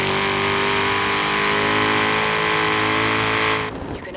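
A car engine in the racing game Forza Horizon 3 holds a loud, sustained high-revving drone with a rich harmonic whine, then drops sharply near the end as the revs fall away.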